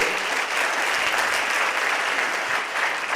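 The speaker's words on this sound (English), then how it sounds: "If you wouldn't mind, give them a round of applause." An audience at a live talk or demonstration claps in steady, dense applause that holds at an even level for a few seconds.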